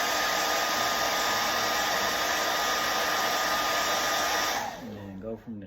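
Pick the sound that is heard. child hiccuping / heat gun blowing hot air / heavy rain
heat gun blowing hot air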